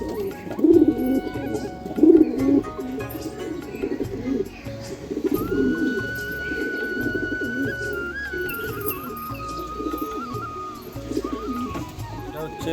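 A pair of Madras pigeons, one male and one female, coo in low rolling bursts close to the microphone, louder at first and then steadier, with a thin tonal whine running through the middle.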